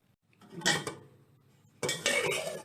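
Pork tipped into a frying pan for stir-fried instant noodles with fried egg: two bursts of clattering pan and utensil noise with sizzling, separated by a quieter pause, fairly close and moderately loud.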